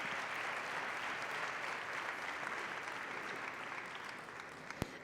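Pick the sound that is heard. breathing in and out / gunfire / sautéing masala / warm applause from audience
warm applause from audience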